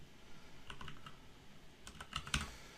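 Quiet, close keyboard typing on a computer in short clusters of light key taps, with a brief pause between bursts and a sharper final keystroke.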